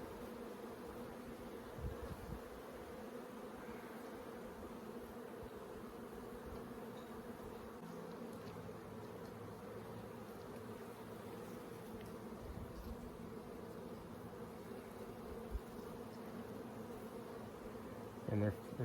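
Honeybees swarming around an open backyard beehive during an inspection, a steady close droning buzz that continues throughout with occasional faint handling knocks.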